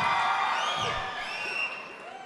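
Audience at a Telugu film pre-release event whoops and cheers as a comedian takes the stage, with whistles rising over a dense crowd roar that stays loud and steady throughout.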